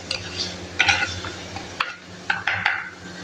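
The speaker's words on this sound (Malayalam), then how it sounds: "വറ്റൽമുളക് ഇട്ട് കൊടുക്കാം. നന്നായിട്ടൊന്ന് ഇളക്കി കൊടുക്കാം." Dried red chillies and onions are stirred in a pan with a utensil, giving soft scraping and clinking strokes over a faint sizzle, close and moderately loud.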